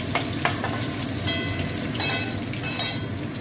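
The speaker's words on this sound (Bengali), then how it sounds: "এই আলুগুলো আমার ভাজা হয়ে গেছে, আমি এবার আলুগুলো তুলে নিচ্ছি" Fried potatoes are lifted out of hot oil in a home kitchen, with a steady crackling sizzle underneath and a few brief utensil scrapes and stirring bursts near the end.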